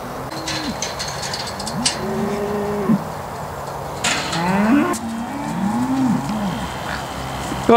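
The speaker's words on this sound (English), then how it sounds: "we're just going to get the cows round now" Dairy cows moo repeatedly on a farm as they are gathered for a TB test, several long, low calls overlapping at close to mid distance with occasional knocks and clatter in the background.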